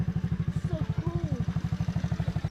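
A quad bike engine runs with an even, rapid thumping pulse while being ridden, close and steady, and a voice briefly speaks over it.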